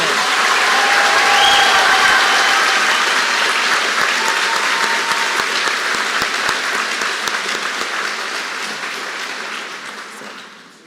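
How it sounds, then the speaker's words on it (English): Sustained applause from a large crowd at a high school graduation ceremony, loud and steady for about ten seconds before slowly fading. "Please join me in a round of applause to acknowledge their achievement."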